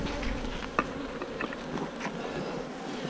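Dense buzzing of many honey bees swarming around an open hive while frames are pulled for a nuc, a steady close drone with one sharp tap partway through.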